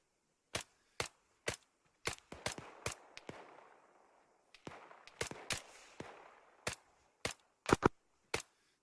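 Gunfire in the tactical shooter video game Task Force 121 during an urban operation: sharp, dry single shots and short bursts crack irregularly, some near and loud, others lighter, over a quiet background.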